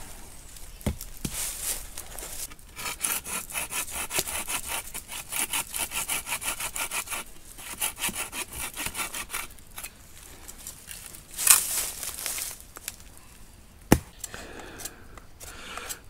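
Wood is carved into shavings at a forest campsite, giving rapid, close scraping and rasping strokes in bursts, with a few sharper snaps.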